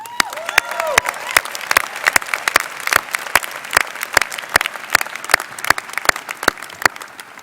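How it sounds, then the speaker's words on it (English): Graduates clap at a Smith School of Business commencement ceremony, a steady run of sharp, evenly spaced claps that carries on for the whole stretch with a brief tonal sound at the start. "Give yourself a round of applause."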